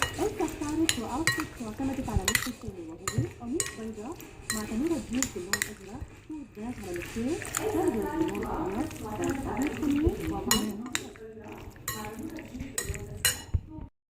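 A utensil clinks and scrapes against a pan as chicken is stirred with spices and pepper, making repeated light metallic taps under a person's steady talking.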